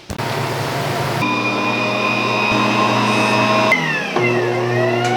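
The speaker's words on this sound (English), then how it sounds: "let the machine mix up really well" A kitchen stand mixer kneads pizza dough made with flour, a steady loud motor whir with a constant tonal hum that shifts pitch slightly as the load changes, running continuously with no talk.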